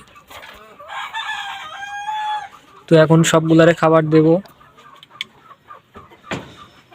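Domestic chickens cluck and call before their afternoon feed: a run of higher, tuneful clucks, then a loud, harsh rooster-like burst for about a second and a half. Someone speaks briefly over the calls.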